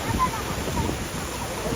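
Fresh water flowing in a stream at Vyaghreshwar, a steady broadband rush close by that runs continuously with no distinct pauses, with a faint voice partly mixed in.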